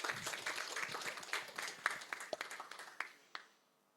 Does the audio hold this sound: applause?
yes